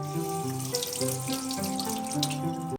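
Steady tap water runs into a sink to wash a calligraphy brush, a moderate continuous splashing stream that stops abruptly at the end, with a faint background tone.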